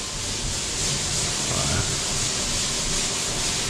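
Steady abrasive rubbing of sandpaper during house construction prep work, a continuous hissy scrape at moderate volume with no pauses.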